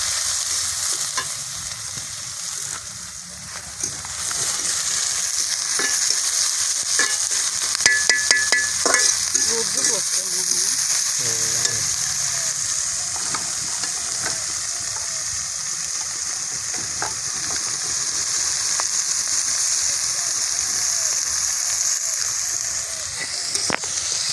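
Onions frying in oil in a pan, a loud, steady, close sizzle lasting throughout, with scattered clinks and scrapes of stirring.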